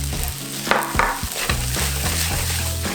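Kimchi cheese fried rice is stir-fried in a pan, giving a steady close sizzle broken by several scooping scrapes and knocks of the utensil, with no voices.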